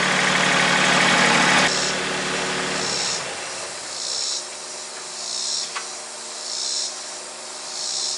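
A small old tractor engine runs loud and rough at first, then drops to a steady low idle with a faint hiss and pulsing high insect-like chirps over it.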